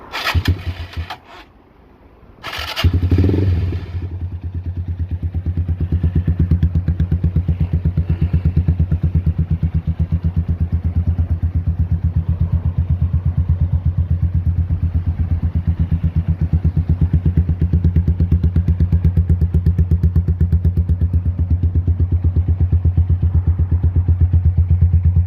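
A Lexmoto XTRS 125 motorcycle with a carburettor issue starts with a couple of bursts, then settles into a steady, close, throbbing idle that runs on without talk.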